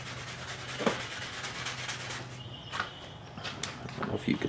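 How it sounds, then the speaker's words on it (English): Up close, 300 grit sandpaper rubs on a metal part from a GS550 cafe racer motorcycle, a continuous scratchy, uneven abrasion with a low background hum. "start out with about 300 grit."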